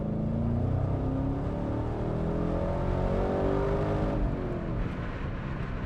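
A Chevrolet Camaro SS 6.2 engine revs and accelerates steadily, its pitch climbing in a smooth rising whine, with a brief gear-change dip before pulling again, close and loud.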